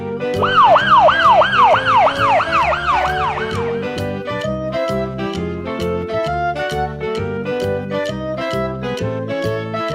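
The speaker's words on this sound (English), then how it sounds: "Police car." Police car siren yelping in rapid rising-falling cycles, loud and near for the first four seconds, then fading into a rhythmic musical backing track.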